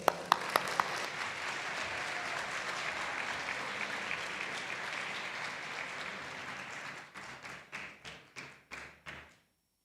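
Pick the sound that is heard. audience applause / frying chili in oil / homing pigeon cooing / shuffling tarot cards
audience applause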